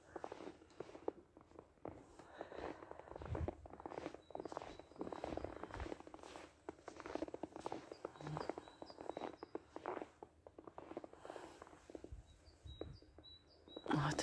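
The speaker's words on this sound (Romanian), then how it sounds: "ce frumos cântă păsărelele." Small birds chirp and tweet faintly in a frozen park on a cold winter day at minus six degrees, with crunching footsteps and light outdoor ambience throughout.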